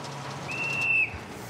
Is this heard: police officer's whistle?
yes